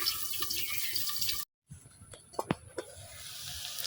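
Taro (kochu) fritters frying slowly in a pan over low heat in a village kitchen, a soft steady sizzle with a short break and a few sharper crackles and pops.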